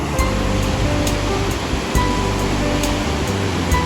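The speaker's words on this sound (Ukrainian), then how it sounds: "Які прямо хвилі, які буруни там оце, який поток сумасшедший." The Tisza river swollen by rain, a loud, continuous roar of churning waves and rushing torrent heard from close by, steady broadband water noise with no voices.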